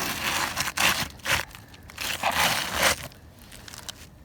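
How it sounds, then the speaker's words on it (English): A hook blade knife slices through old asphalt roof shingles in short, close, crunchy tearing strokes, several separate bursts of scraping and cracking and then a quieter pause. "Knife will cut it like butter, especially a nice hook blade."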